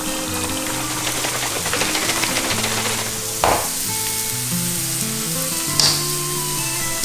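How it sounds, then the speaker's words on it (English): Food sautés in a pan with a steady close sizzle and crackle, broken by a couple of sharp utensil clacks, no one speaking. "I'm gonna drink this while this is sauteing"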